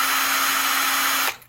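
A cordless drill fitted with a paint mixer attachment whirs at a steady high pitch while stirring paint, then stops abruptly near the end, loud and close with no talk.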